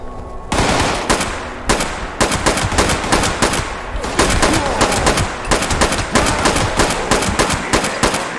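Rapid bursts of rifle gunfire in the video game Fallout 76 crack repeatedly, some in quick strings and others as single shots, loud and continuous throughout.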